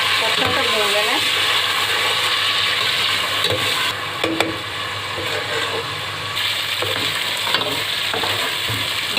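Chicken and pumpkin curry ingredients frying in a pan, a loud continuous sizzle with spatula scrapes and clinks against the pan over the steady hiss.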